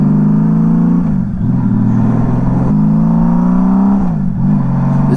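A carbureted 1999 Honda Valkyrie F6C motorcycle engine runs at a steady, smooth idle, a loud close droning hum with slight rises and dips in pitch, heard alone with no talk.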